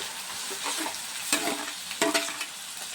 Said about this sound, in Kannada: ಈಗ ಇದ್ರ ಒಟ್ಟಿಗೆ ಟಮಾಟೆನ ಹಾಕ್ತೀನಿ ಒಟ್ಟು ಹಾಕ್ತೀನಿ ರೀ ನಾವು ಒಟ್ಟು ಹಾಕಿ ತಿರುವುತೀನಿ ರೀ